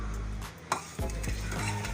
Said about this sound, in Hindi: अब मैं इसे अच्छे से मिक्स करूंगी।